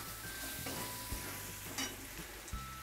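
Spices stirred into drumstick vegetable pods in a pan, a soft low sizzle with intermittent scraping and knocks of a spoon against the pan, quiet and close, no talking.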